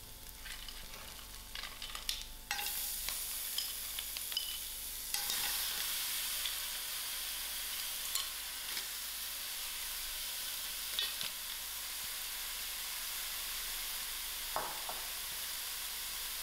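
Mussels sizzling and frying in a hot pan with a sprinkle of paprika, a steady bright crackle throughout with occasional stirring scrapes, close and continuous with no talking.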